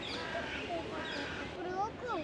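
Parrots and seagulls call above the Bosphorus on an Istanbul boat trip, with faint chirps and squawks scattered through steady background noise.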